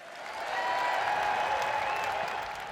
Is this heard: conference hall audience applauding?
yes